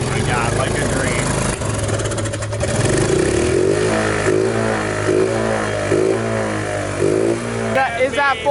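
A Toyota AE86 fitted with a K-series engine revs hard and close, its rising and falling engine note held steadily loud, with people talking and exclaiming over it.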